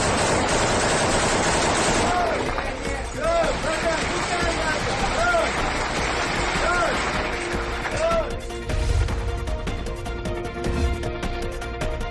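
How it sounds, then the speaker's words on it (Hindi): Bursts of rapid gunfire between soldiers fighting from inside a destroyed house in the Russia–Ukraine war, heard under continuous dense noise and a voice talking over it. "दोनों पक्षों के बीच जमकर फायरिंग हो रही है।"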